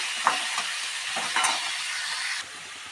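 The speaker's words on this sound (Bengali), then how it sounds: "পেঁয়াজটা আমি নেড়ে নেড়ে বাদামি রঙের করে নেব" Onion is stirred in hot oil, giving a soft continuous sizzle broken by a few scraping strokes of a spoon against the pan.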